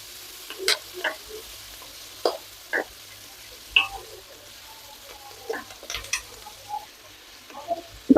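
A single tomato sautéing in a pan, soft sizzling under intermittent spoon scrapes and taps, sparse and close with quiet stretches between strokes.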